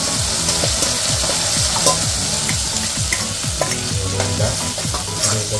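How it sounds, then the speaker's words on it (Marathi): Cooked dal poured into a hot tempering of sautéed spices in a pan, sizzling steadily and loudly as a spoon stirs and scrapes through it in quick repeated strokes, close by with no voices. "आता आपल्याला याच्यात टाकायची आहे शिजवलेली डाळ."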